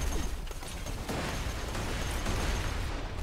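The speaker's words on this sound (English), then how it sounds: "That's a lot of explosions." Explosions in the video game Borderlands 2 during a grenade fight, a continuous loud, dense roar of blasts and rumbling bursts filling the whole clip.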